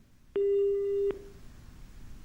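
A telephone busy tone sounds after a phone-in caller's line drops on a farming advice TV programme, a single loud, steady beep lasting under a second over faint background noise.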